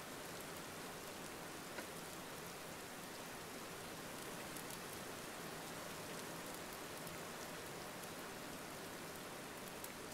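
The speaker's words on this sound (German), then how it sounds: "Es regnet auch noch, das ist natürlich auch nicht so super." Steady rain falls in a video game, a constant even hiss of drops on surfaces with no talk over it, faint but unbroken throughout.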